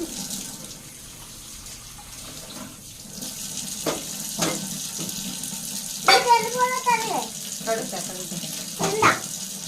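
A kitchen tap runs steadily while a stove is washed, giving a constant hiss with splashes and clatter, and someone speaks over it.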